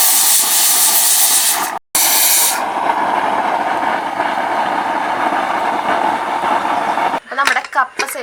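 Steady loud hiss from a pressure cooker steaming on the stove while cooking tapioca, continuous for several seconds with a brief break, then a few fainter fluttering puffs at the end.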